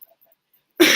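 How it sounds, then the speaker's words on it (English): A single short cough bursts out close to the microphone after a moment of near silence. "I don't like coughing on camera"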